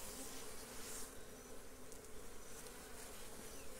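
Honey bees hum in a steady, dense buzz around an open hive while a honey super full of comb is being harvested, the swarm sound close and continuous throughout.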